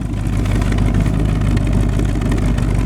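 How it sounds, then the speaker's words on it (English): Low, steady exhaust rumble from a 1976 Dodge Power Wagon with a fresh 400 V8 and glass pack mufflers, idling close by at a moderate volume with an even, throbbing tone and no talking. "The exhaust has glass packs."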